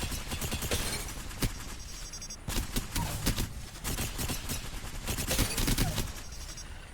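Weapons fire in the Apex Legends video game during test shots, dense rapid bursts of automatic gunfire with a few brief pauses, loud and continuous across the whole stretch.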